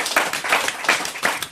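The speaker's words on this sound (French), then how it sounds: "On remercie, on applaudit Louis, voilà." Studio audience clapping in a French talk show, four short rhythmic swells of applause over about a second and a half, fairly faint and close, with no talking over it.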